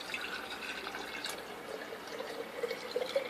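Water poured into a jar for a magic trick prank, a light trickling and dripping fill heard up close, getting splashier toward the end.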